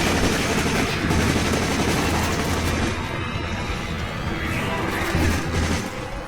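Turret gunfire in the shooter video game RE Operation Raccoon City, a dense, continuous barrage of rapid shots and booms that stays loud and unbroken throughout.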